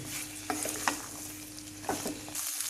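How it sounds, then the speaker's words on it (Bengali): Chopped green chilies frying in oil for a bitter gourd pickle, giving a soft, low sizzle with a few spaced stirring clatters at close range. "এবার আমি কিছুক্ষণ একটু নেড়ে চেড়ে ভেজে নিচ্ছি"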